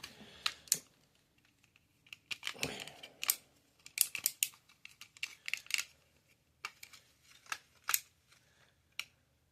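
Plastic clicks ratchet from the waist joint of a Transformers Grimlock toy as it is turned through a 180-degree rotation. Sharp, close taps arrive in quick irregular bursts against near silence, with no talking.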